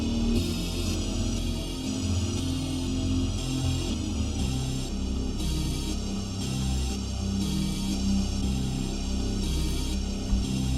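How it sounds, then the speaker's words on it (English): A synth bass line on a Supercluster patch, pulsing in a repeating rhythmic pattern beneath airy, shimmering upper tones, steady and continuous without any talking. "This is a bass line."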